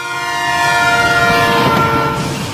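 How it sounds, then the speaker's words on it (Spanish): A passing train sounds its whistle in a long, loud, steady tone with several layered pitches, while rumbling rail noise swells and fades as the train goes by. "si alguna vez hemos oído pasar un tren haciendo sonar el silbato"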